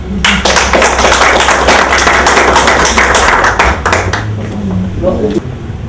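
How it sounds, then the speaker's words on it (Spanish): A crowd applauds at a Spanish-language history talk in a hall, loud rapid clapping filling most of the stretch before thinning out near the end, with some low background rumble. "Un aplauso"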